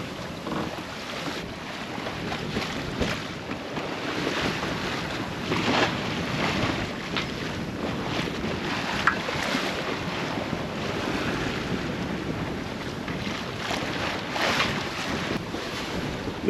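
Steady wind roars across an open sailboat, a constant broadband rush with gusty swells and faint water wash beneath, no voices.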